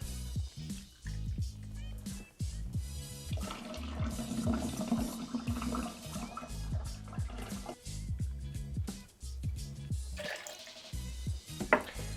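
Three ounces of fancy pineapple juice pours into a mixing vessel for a piña colada, a steady liquid splash and trickle running close and fairly quiet with small clinks and drips around it.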